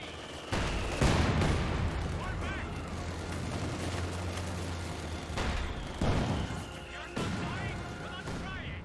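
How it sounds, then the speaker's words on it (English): A rocket barrage in the video game Company of Heroes 2, repeated heavy blasts and crackling impacts in bursts, with a commentator talking over the battle. "Rockets raining on in."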